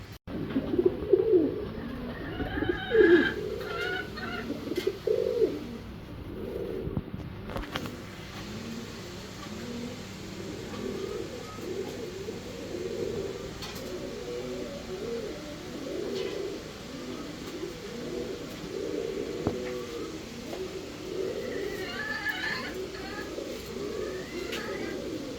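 Fancy pigeons coo steadily in low, murmuring bursts throughout, a flock close by with faint chirps and distant traffic in the background.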